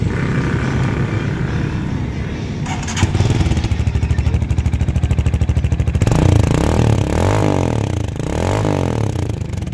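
Classic 250i motorcycle engine fitted with a bullet pipe and silencer, running loud and close with a steady throbbing exhaust note that rises into a harder revving pulse partway through, no talking over it.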